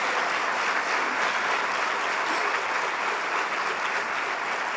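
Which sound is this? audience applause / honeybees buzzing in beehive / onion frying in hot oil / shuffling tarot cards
audience applause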